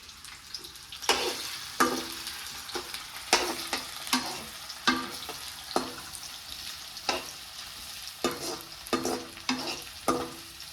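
Chopped onions fry in a pan while being stirred, with a continuous soft sizzle under repeated scraping strokes of a spoon at an uneven rhythm, close but fairly quiet.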